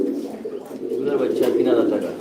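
Large fancy pigeons at a loft coo in a steady, continuous murmur, close and fairly loud, with a voice talking faintly alongside.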